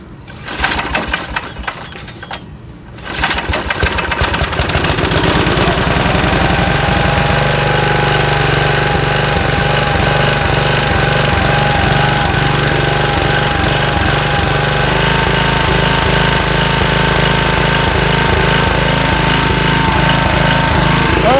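A Briggs small-engine lawn mower runs loud and close, with a steady, hard, rapid chugging drone that stays constant for most of the clip after a brief rougher start.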